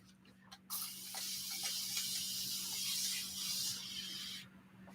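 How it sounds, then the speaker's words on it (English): A spray bottle misting water onto the back of a print, a steady close hiss of about four seconds after a few faint clicks of the trigger. "All right, I just sprayed the back of it."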